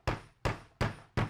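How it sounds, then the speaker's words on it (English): A mallet strikes a chopped wooden floater frame corner joint four times in a steady rhythm, each blow a sharp, close knock that fades quickly. "hammering it into the back"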